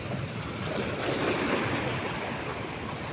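Sea waves at Limay Park beach in Bataan wash in a continuous broad rush, fairly loud and near, with wind buffeting the microphone and no voices.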